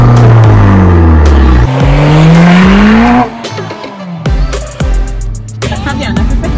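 A tuned Abarth road car in DNA Racing trim being driven hard on the road, loud engine revving and rising through gears with tire squeal, close from inside the car, no talk.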